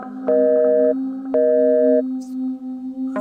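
A phone line sounds a busy or failed-connection tone: two steady electronic beeps, each about two-thirds of a second long, sit over a constant low hum, and the pattern begins to repeat at the end.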